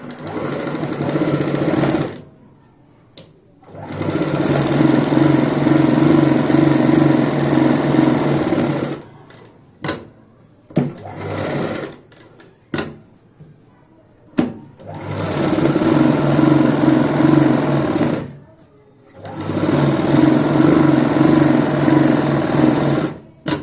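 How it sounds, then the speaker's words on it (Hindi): A sewing machine stitches a sleeve in steady, loud bursts of rapid whirring, several runs separated by short pauses and a few sharp clicks, with no talking. "यहाँ पे जो सिलाई लगाएंगे इस तरीके से हम सिलाई लगाएंगे"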